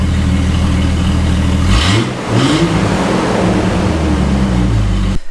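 A 1997 Jeep Wrangler TJ engine runs loud and close, idling steadily, then revving up briefly twice around the middle before settling back to a rumbling idle.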